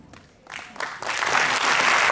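Audience applause at a prize distribution ceremony for a student competitive exam, starting faint and swelling into sustained, fairly loud clapping from a crowd with no talk over it.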